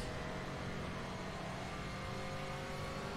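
A race car engine in the sim racing game rFactor 2, lapping the Brno circuit, holds a steady, dense drone under throttle on a straight, loud and continuous with no talk.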